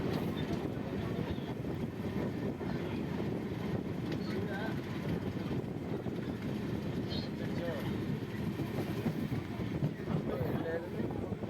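A train running at speed toward the Pamban bridge near Rameswaram makes a loud, continuous rumble with rattling wheels and heavy wind buffeting, filling the whole stretch without a break.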